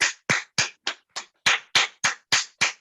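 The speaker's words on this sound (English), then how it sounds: "3 finger clap." Three-finger clapping, about ten crisp, fairly even claps in a quick steady rhythm, close by and alone with no voices.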